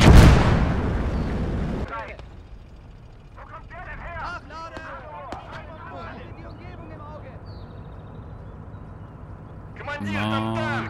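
Gunfire and explosions in the World War II video game Call to Arms: Gates of Hell. A loud blast opens the clip, then battle sounds rumble on underneath frequent talking, and another burst of fire comes near the end.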